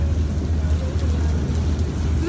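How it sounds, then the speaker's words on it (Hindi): Heavy stormy rain during a thunderstorm, heard from aboard a train travelling from Karachi to Gujranwala, a steady loud wash of rain and rumble filling the whole moment with no pauses. "तूफानी बारिश हो रही है, यू जस्ट कांट बिलीव।"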